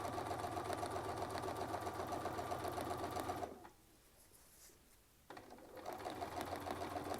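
A sewing machine runs with a Westalee Spin E Fex template, stitching in a fast steady whir. The motor stops for a moment partway through, then starts stitching again.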